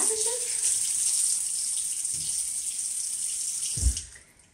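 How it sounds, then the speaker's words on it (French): Tap water runs steadily into a bathroom sink while someone splashes and wets their face, a close continuous hiss that fades out with a brief splash near the end. "Fait que je vais me mouiller vite le visage."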